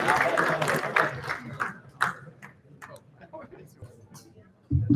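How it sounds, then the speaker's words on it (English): An audience applauds a panel at a ZK Day tech conference. The clapping is dense and loud at first, then thins to scattered claps before a voice takes over near the end. "Let's give them a round of applause"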